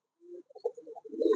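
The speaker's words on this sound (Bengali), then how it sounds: "প্রায় 30 জোড়া কবুতর আছে।" Pigeons coo softly on a rooftop after rain, a short run of low warbling coos rising into a fuller throaty coo at the end, close and fairly quiet.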